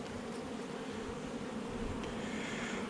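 A dense, steady hum of many honey bees buzzing close by at an open hive, continuous and uniform with no pauses, no voices.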